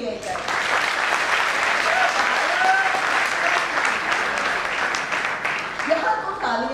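Sustained audience applause fills a speech hall on urban naxalism, a dense steady wash of many hands clapping at even loudness throughout, with no voices standing out.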